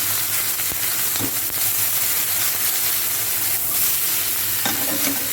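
Chopped onions sizzling steadily in a hot pan while being stirred, a constant bright frying hiss with occasional scrapes, no talking.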